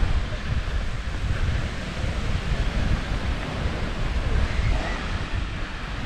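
Seaside beach in Gdańsk, with a broad steady roar of wind and surf, loud and continuous, buffeting the microphone with low rumble throughout.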